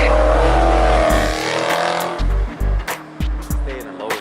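Race cars on a track pass loudly and close, engines roaring then dropping away, followed by several shorter bursts of revving and gear changes, with people talking over the sounds.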